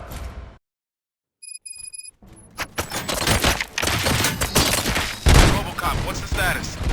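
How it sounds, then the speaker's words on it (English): Gunfire in the video game RoboCop: Rogue City: after a brief silence and a few electronic beeps, a loud, dense burst of rapid shots and impacts rolls on, heavy and close, filling the rest of the stretch. "Gunshots?"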